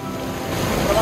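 Curug Citambur waterfall pours in a steady, dense roar of rushing water that swells slightly, with no break.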